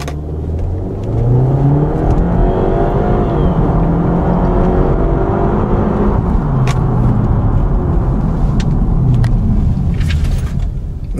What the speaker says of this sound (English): from the sound, this is obviously a very tiny engine, but it's obviously turbocharged too